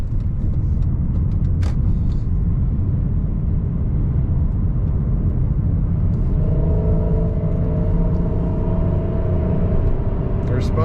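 A 2003 Chevrolet Monte Carlo SS pulls along a road in a low, continuous engine and tyre rumble heard from inside the car, with a faint rising tone toward the end.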